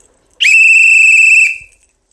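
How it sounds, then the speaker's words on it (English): A single sharp, loud whistle blast held steadily for about a second before tailing off, sounding close and alone with no talking around it. "why do you keep blowing that whistle?"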